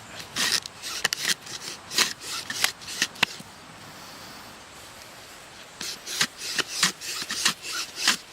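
A palm frond bow drill rubs back and forth against wood in rapid raspy strokes, close up, in two bursts separated by a short pause.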